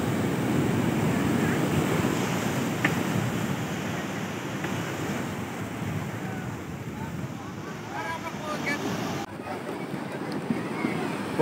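Surf at Old Digha beach on the sea shore, with a continuous broad wash of breaking waves and wind buffeting the microphone, steady and fairly loud throughout.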